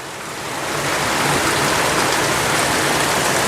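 Heavy rain falls on a tin roof as a loud, steady hiss that builds over the first second, then holds evenly with no voices.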